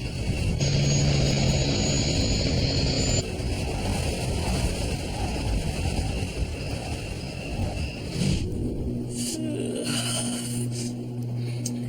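An airliner flies on final approach to landing at Buffalo with its flaps extending. A loud, continuous engine roar and rushing air fill the whole stretch, and the tone shifts noticeably near the end.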